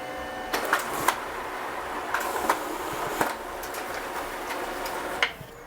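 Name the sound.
Pantum BM5100ADN laser printer printing a page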